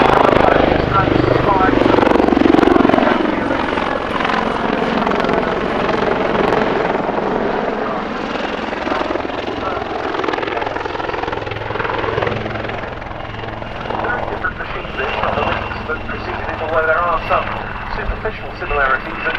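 A Royal Navy Wildcat helicopter flies at the RAF Cosford Air Show in 2024, its loud rotor chop and turbine roar steady throughout and slowly fading slightly, with a commentator's voice running over it.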